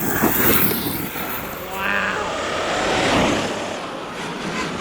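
Arrma Kraton 8S RC car with M2C chassis and Hobbywing system at full throttle, a steady high-pitched motor whine rising and falling as it speeds past, fairly loud and continuous.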